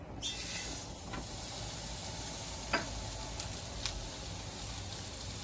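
Steak searing over a very hot home grill with flames leaping up, giving a steady, close sizzling hiss with a couple of brief sharp pops standing out.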